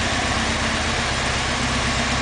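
A 1977 Alfa Romeo Spider S2 idles with a steady, smooth exhaust tone, a constant low rumble with no revving, close and fairly loud throughout.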